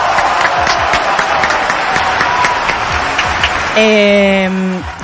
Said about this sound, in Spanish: vamos a recibir la noticia con un aplauso